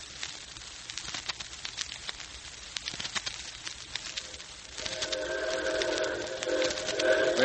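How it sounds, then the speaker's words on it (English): A 4-6-4 Hudson-type steam locomotive arrives, its rumble building and growing louder as it draws near, with a sustained whistle-like tone joining in the second half. "Well, Dick, here she comes. Yep. Right on time. It's a 464 type locomotive."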